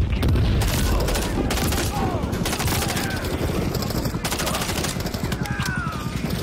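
Breaching charge and gunfire in the Call of Duty Modern Warfare III campaign: a heavy boom, then rapid bursts of automatic fire crackling nearby in loud, uneven volleys.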